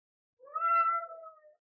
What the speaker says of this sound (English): he makes little meows when you talk to him